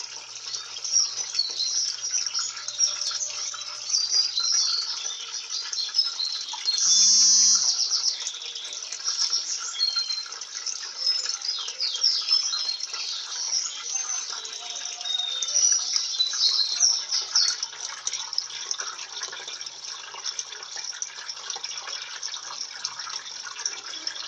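A Turbo 13 kg LT13B washing machine works through its second rinse at a medium water level, giving a steady bright swishing and splashing of water that runs continuously throughout, with a brief louder burst partway in.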